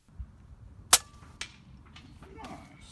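Single sharp gunshot crack at an outdoor benchrest shooting competition, close and brief, followed by a softer secondary snap and faint background murmur.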